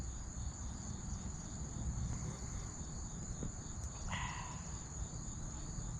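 Crickets chirp in a continuous high, faint drone outdoors, steady and unbroken, with a brief soft clatter partway through.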